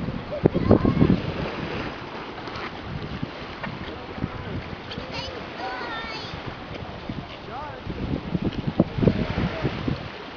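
Strong wind buffets the microphone on open water during paddle boarding, a steady rushing roar with gusty bursts near the start and end, and voices talk faintly beneath it.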